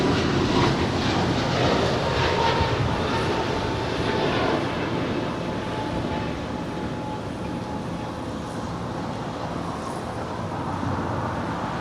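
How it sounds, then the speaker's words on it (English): An American Airlines airliner takes off at LAX, a steady broadband engine roar heard from a distance, loud and sustained throughout without voices. "runway 25 right. Clear for takeoff at Foxtrot."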